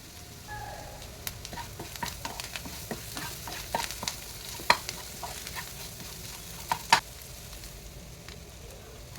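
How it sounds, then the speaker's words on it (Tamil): Capsicum and egg sautéing together in a pan, with a steady close sizzle under frequent spatula scrapes and taps against the pan, some sharper knocks standing out, no talk. "இப்போ எல்லாம் சேர்த்து நல்லா வதக்கலாம்."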